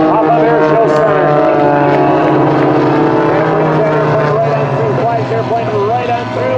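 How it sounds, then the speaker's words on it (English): Four aerobatic airplanes flying together through a barrel roll at an air show, a loud sustained engine drone with harmonic tones, under an announcer's continuous commentary. "all 4 airplanes are in the same barrel roll at the same time as they go right on through"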